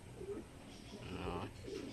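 Soft cooing of racing pigeons arriving from a race, a few low throaty calls close by over faint background noise.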